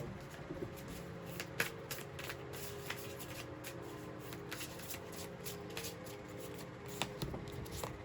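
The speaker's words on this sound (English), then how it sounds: "I'm just gonna pull 3 cards for the top row and 3 cards for the bottom row" Tarot cards being handled and drawn, giving soft papery flicks and snaps scattered irregularly over a quiet background, close but faint, with no speaking.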